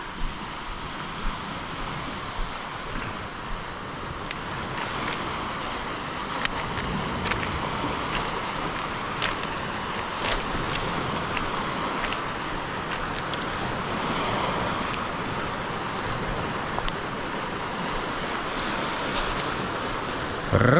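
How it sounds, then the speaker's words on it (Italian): Waves breaking against a rocky shore at Medolino, Croatia, in winter, a steady broadband wash with surging swells and faint spray, with some distant road-like rumble beneath. "Oh, c'è un po' di onda e scogli."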